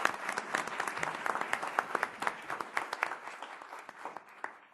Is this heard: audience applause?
yes